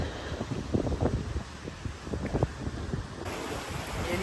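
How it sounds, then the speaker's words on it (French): Wind buffets an unshielded microphone on a coastal outing near Boston in October, a loud, uneven rumble with gusty bursts that continues throughout, with no talking. "il y a un peu de vent, j'ai pas de micro"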